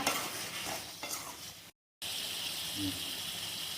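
Chicken for chicken sukka is sautéed in a pan, giving a dense, continuous frying hiss with a few stirring scrapes. There is a brief silent break partway through, then the sizzle resumes steadily.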